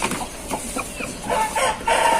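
An Aseel rooster on a farm gives short clucks and a rising crow-like call, close and fairly loud, with bursts growing stronger toward the end.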